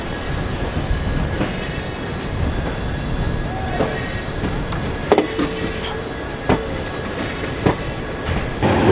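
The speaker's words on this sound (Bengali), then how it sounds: "ট্রেন এখন ক্রস করছে পাতিপুকুর স্টেশন" The Haldibari Superfast Express from Kolkata to NJP rumbles along the rails past Patipukur station on the Sealdah main line, a constant close roar broken by sharp clacks and metallic clicks over the joints.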